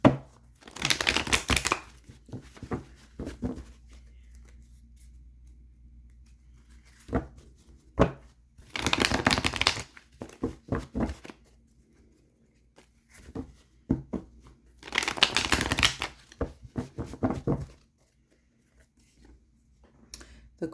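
Tarot cards being shuffled and handled in three bursts of crisp, papery riffling and tapping, separated by quieter stretches with faint scattered clicks.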